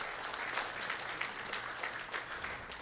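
Church congregation applauding to thank the fathers present, a steady patter of many hands clapping at moderate distance throughout.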